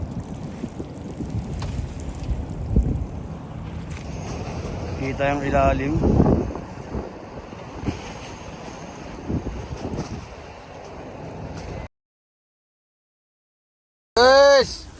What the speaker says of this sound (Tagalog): Yung dagat dito sa Ibaraki.